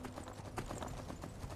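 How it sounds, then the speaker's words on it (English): A horse gallops in Skyrim with rapid, rhythmic hoof clip-clops, close and moderately quiet, repeating steadily across the short stretch. "Now we have a horse."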